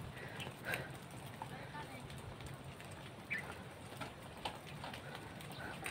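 Horse hooves clip-clop faintly on a goat farm near the gate, a few scattered hoof strikes against a low outdoor background while people talk.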